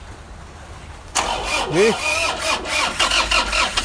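A Toyota 2KD diesel engine in a Grandia van, converted from a manual injection pump back to electronic, cranks and catches abruptly, then settles into a loud, close, rough idle, with a person speaking briefly over it.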